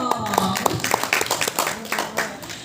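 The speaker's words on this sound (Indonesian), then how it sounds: "Kasih tepuk tangan dulu dong" Scattered, sparse hand claps from a small group at a community program gathering outdoors in a park, irregular and close, mixed with overlapping talking voices.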